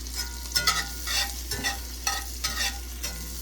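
Chicken sizzles and fries in a pan over raised heat while being stirred, a close, steady hiss broken by repeated scraping bursts of stirring, with no talking.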